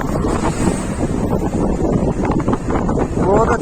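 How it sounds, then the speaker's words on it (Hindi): Cold morning wind rushes steadily over a car on a mountain road from Guptkashi toward Badrinath in Uttarakhand, loud and buffeting the microphone throughout, with a faint voice underneath. "बहुत अच्छी हवा चल रही है"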